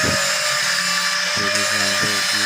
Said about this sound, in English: We use grinder.